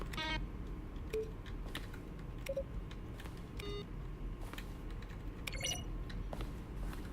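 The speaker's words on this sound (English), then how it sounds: "Button sounds, a selection of the sounds used throughout the game when buttons are pressed. Each sound is a mix of a keyboard stroke and a synthesized tone." Button presses from The Stanley Parable, each a keyboard stroke mixed with a short synthesized tone, land as a sparse series of faint clicks and brief beeps over a quiet background hum.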